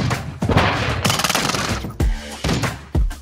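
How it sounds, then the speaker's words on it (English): Gunfire in Call of Duty Modern Warfare 2, with loud close bursts of automatic fire followed by several sharp, heavy single shots in uneven rhythm. "Somebody trying to shoot."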